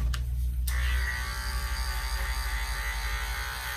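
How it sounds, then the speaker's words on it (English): Electric hand clipper trimming the fur on a Persian cat's paw pads, a steady close buzzing motor hum that runs continuously after a brief quieter start. "I am going to use my hand clipper and I'm going to clean the pads"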